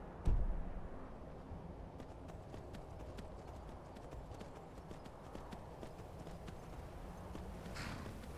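Horse hooves in Skyrim (Dawnguard) video game, a steady run of close, clear clip-clops on rocky ground after a sharp opening thump, with faint background sound.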